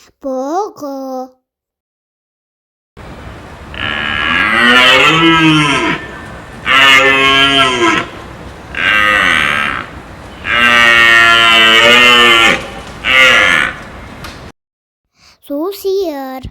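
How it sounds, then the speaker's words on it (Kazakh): A water buffalo moos in several long, loud, drawn-out calls with short pauses between, while a voice briefly speaks before and after. "Су сиыр."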